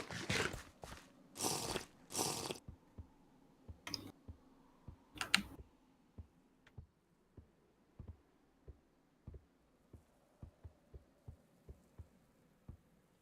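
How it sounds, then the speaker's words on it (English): Computer keyboard typing heard faintly in the background of an online voice chat, with a few louder bursts of rapid clatter early on, then a steady run of soft, evenly spaced key taps. "PS, I can hear you using your keyboard."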